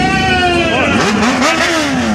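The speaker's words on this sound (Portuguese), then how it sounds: "acelerando o XR300, mandando lá embaixo" XR300 motorcycle engine revving hard at the Salão Moto Brasil 2016 stunt show, with repeated sharp rises and falls in pitch, loud and close, over crowd and arena noise.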